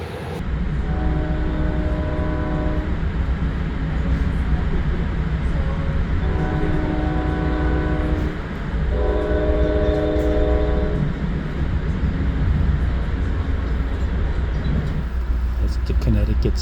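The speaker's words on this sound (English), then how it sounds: "This is the train to Springfield." Commuter train bound for Springfield rolling with a steady heavy rumble while its horn sounds in several long blasts, with a voice speaking over it.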